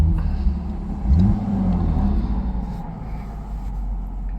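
A car engine rumbles close by and rises in one brief rev, then settles back to a steady idle.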